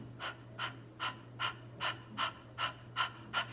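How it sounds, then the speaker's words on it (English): Breath of fire, a rapid breathing exercise done sitting up tall, heard as nine quick, even, forceful breaths through the nose, close and steady in rhythm over a low hum. "it is simply just sitting up tall and breathing in and out"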